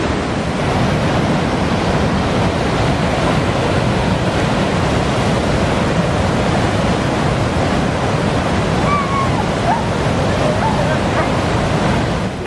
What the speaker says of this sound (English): I'm standing on top of the natural bridge in Yoho National Park. It's pretty impressive. The water is raging.